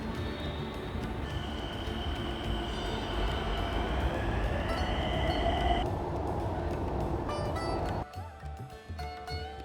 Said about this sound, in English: I am right now waiting at Chhatrapati Square metro station, waiting for my next train to 0 mile.